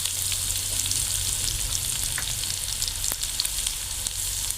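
Chopped onion and spring onion greens sizzling in a hot pan, a steady bright frying hiss with occasional light stirring clicks, close and continuous without speech.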